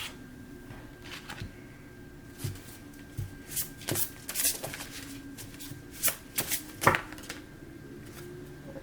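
Tarot cards are shuffled and pulled from the deck at close range: soft papery riffles and a series of crisp slaps and flicks, with no voices.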